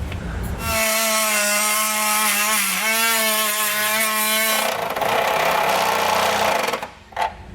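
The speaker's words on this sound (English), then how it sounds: "So I actually used a step bit to kind of enlarge it to make it wide enough." A step drill bit grinds through steel, enlarging a hole in the frame of a 2020 Ford Escape: a loud, close, sustained whining drill tone with wavering pitch for about four seconds, then rougher scraping noise before stopping.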